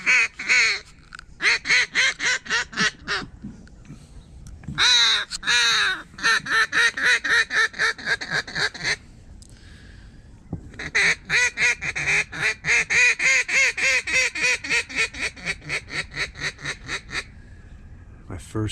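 Mallard-style quacking rings out during a Thanksgiving duck hunt in loud, rhythmic runs of honking calls, broken by brief pauses before the series resumes.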